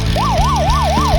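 An ambulance siren from a Tomica toy car wails in fast, even up-and-down sweeps, about four cycles in just over a second, loud and close.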